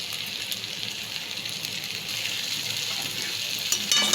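Boiled chickpeas with a little sugar and salt sauté in a pan, giving a steady close sizzle with soft stirring scrapes throughout and no talk.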